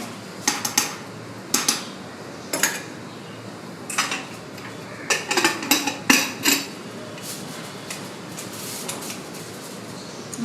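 Metal clatter as a pressure cooker lid is fitted and closed over beef vindaloo in a home kitchen: a handful of sharp clanks and taps spread over several seconds, close and moderately loud, with no talking.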